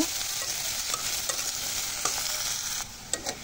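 Two chopped onions frying in hot mustard oil for chicken bhuna, a close, continuous crackling sizzle punctuated by several sharp scrapes and stirs of a spatula against the pan.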